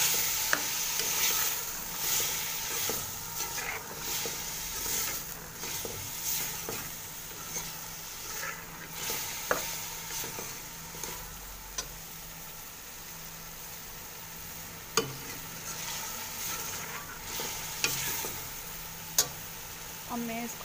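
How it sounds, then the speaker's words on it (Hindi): Potato and cauliflower pieces frying in a cooked masala give a low continuous sizzle, with scattered clicks and stirring knocks of a spoon against the pan throughout and no talking. "अब मैं इसको 5 से 10 मिनट के लिए इसमें अच्छी तरह भून लूँगी"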